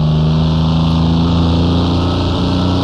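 A Mercedes Transporter van in the Assetto Corsa racing game on the Nordschleife, its engine held at high revs in a steady, loud droning whine with no talk over it.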